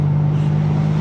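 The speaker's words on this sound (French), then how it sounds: "le bruit de la voiture dans le village comme ça avec les rochers là, c'est très sympa quand même" A Ferrari 550 Maranello's engine hums loud and steady as it drives through a village among rocks, a sustained low drone echoing off the stone with no voices.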